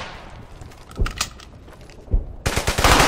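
Machine gun fire in the video game Brothers in Arms: Hell's Highway, scattered loud shots and bursts early on, then a sustained rapid burst of automatic fire to the end.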